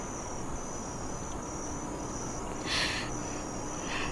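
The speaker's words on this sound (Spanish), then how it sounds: "Las cigarras no lloran, sino cantan." Cicadas sing in a steady, dense high-pitched drone that continues throughout, with a brief louder swell near the end and no talking.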